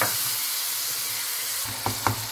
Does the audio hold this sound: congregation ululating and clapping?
no